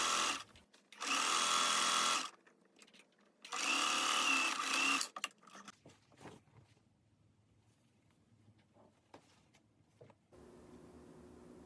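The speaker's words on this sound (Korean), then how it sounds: "블라우스의 옆솔기를 봉제해 보겠습니다" A sewing machine stitches the side seams of a sleeveless blouse in two brisk close bursts. Quiet fabric handling and small clicks follow, and then a low hum.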